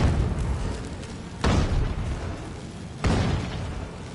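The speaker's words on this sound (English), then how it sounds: "I was staying away from these explosions." Two deep booming explosions in the video game The Witcher 3: Wild Hunt, about a second and a half apart, rumble over a dense, noisy background.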